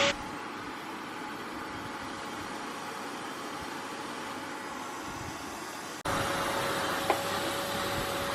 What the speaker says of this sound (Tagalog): So, ngayon mag-vacuum na tayo guys.